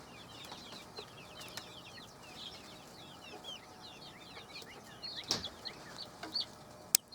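A backyard flock of chickens, including a barred rock rooster, clucks and chirps softly in a busy overlapping chatter, with a few sharper, louder calls near the end.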